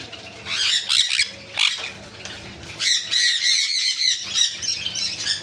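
Conure parrots in a bird shop, sun conures among them, giving loud, harsh, overlapping squawks in bursts, close by, with no talking.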